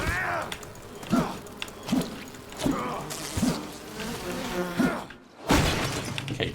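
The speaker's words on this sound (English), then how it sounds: "that's a lot of bees." A swarm of bees buzzing in the game Enshrouded, a droning insect hum with repeated swelling pulses as bees pass close, then a short dropout and one last loud burst.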